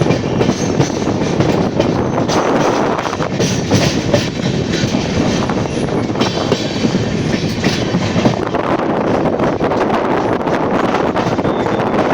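The 12369 Kumbh Express, heard from inside an AC 3-tier economy coach, runs steadily on rails with continuous rumbling, rhythmic clickety-clack of wheels over joints and wind noise, loud and unbroken throughout.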